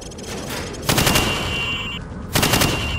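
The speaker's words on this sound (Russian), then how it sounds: "Теперь стреляй по мишеням от бедра." Call of Duty Modern Warfare (2007) gunfire at training targets arrives as loud, close bursts of rapid shots, two distinct volleys with sustained ringing and echo in between.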